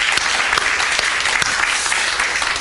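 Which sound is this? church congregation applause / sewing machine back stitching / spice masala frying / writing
church congregation applause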